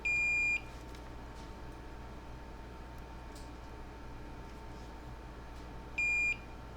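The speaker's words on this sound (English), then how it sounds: "All right, so I'm getting a beep." Multimeter in continuity mode, probes touched to points on a computer motherboard, giving two short, steady high-pitched beeps about six seconds apart over a quiet background hum.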